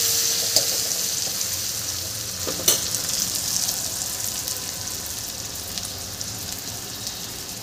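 Tomatoes fry in a pan for dhaba-style dal tadka, a steady close sizzle with a few stirring clicks and a brief clatter, no voices.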